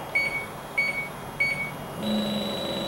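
A JB LD5000 refrigerant leak detector sensing R22 at 10 ppm gives three evenly spaced short electronic beeps, then a steadier tone with a low hum, close and clear with no talking.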